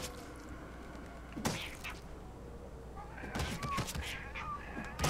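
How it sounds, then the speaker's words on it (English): A large cluster of cats brawling in the video game Guild Wars 2, with repeated meows and caterwauls that grow busier toward the end, along with some thumping sounds and a voice talking faintly underneath. "Still a mass cluster of cats fighting."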